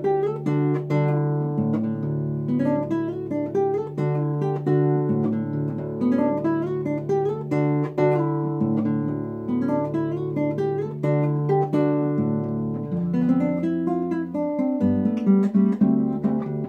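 A classical guitar plays a piece at a New Year's concert in a bank branch, flowing picked arpeggios with a steady rhythm, close and clear with no talking.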